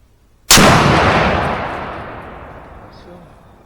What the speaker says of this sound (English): You want me to shoot again?